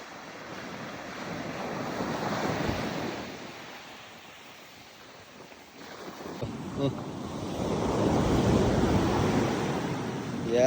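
Surf rolling onto Alashkarah beach beside a camp, a broad steady wash that swells, eases around the middle, then builds loud again, with wind buffeting the microphone.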